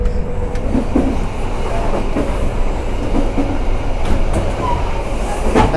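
A train rumbles along the rails from inside a rocking carriage, with steady rolling noise, faint clacks and occasional creaks and squeaks.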